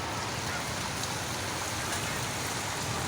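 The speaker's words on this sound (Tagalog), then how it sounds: "Ang tindi talaga ng ulan." Dense, steady downpour of heavy rain hissing and pattering without pause, close and uniform throughout.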